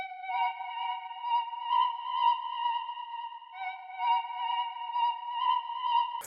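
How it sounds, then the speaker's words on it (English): A synth lead preset called China's Rising Tides, built in FL Studio with phaser, stereo delay and reverb, plays a sustained, bright melodic line of stacked tones. It rises and falls smoothly, with no talking. "I got this lead. It's called China's Rising Tides."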